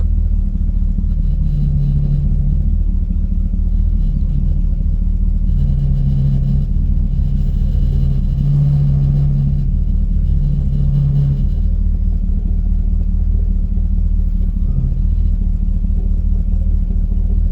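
A car with a failing transmission idles in reverse with the brake held, giving a loud, steady low rumble with slight rises and dips in engine tone.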